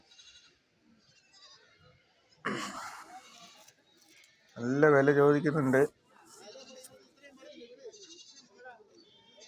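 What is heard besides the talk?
male goats bleating in a vehicle at a goat market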